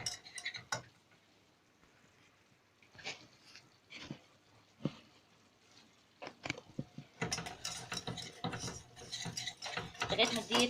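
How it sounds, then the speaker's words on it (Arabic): A spoon scrapes and clinks against a pan while flour is stirred into melted ghee, with sparse strokes at first and then busier, louder scraping toward the end. "اقلبهم بقى كويس قوي مع بعض"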